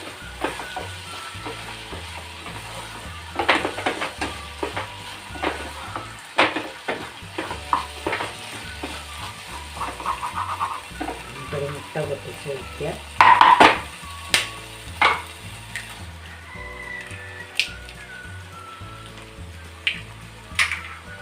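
Curry leaves and vegetables such as carrot and beans sizzling in a hot pan, with repeated scraping and clanking of a spoon stirring against the metal over a continuous frying hiss.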